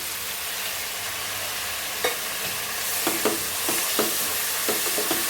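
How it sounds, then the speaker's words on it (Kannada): Tomato and salt frying in oil in a pan for spicy rice usli, a steady bright sizzle with a spoon or spatula scraping and tapping the pan several times toward the end, close and without talk. "ಉಪ್ಪು ಟೊಮೊಟೊ ಹಾಕಿದ್ಮೇಲೆ ಸ್ವಲ್ಪ ಟೊಮೊಟೊ ಫ್ರೈ ಆಗಬೇಕು"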